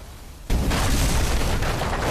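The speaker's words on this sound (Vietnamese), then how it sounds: "quyết chí tiêu diệt thằng Miêu Vương bằng đại pháo" A film cannon fires a large artillery blast, a sudden loud boom that bursts in after a moment of quiet and rolls on as a dense, sustained roar.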